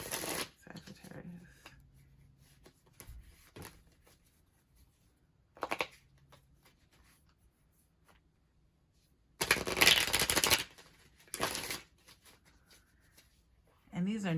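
Bursts of shuffling a new deck of cards, riffling a few times with pauses between, under intermittent quiet talk.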